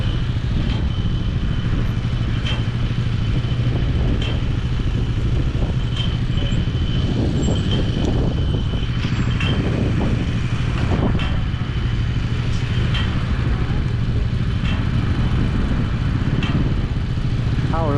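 Cars cross a submersible bridge over the Corinth Canal in Greece, rumbling past at moderate distance over a steady low hum, with occasional clanks and whooshes of passing traffic throughout.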